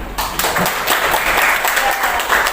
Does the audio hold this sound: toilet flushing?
no